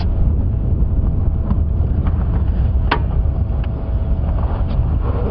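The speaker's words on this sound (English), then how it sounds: "It's quite windy" Loud wind buffets the microphone in a continuous low roar, with a few faint clicks and no speech.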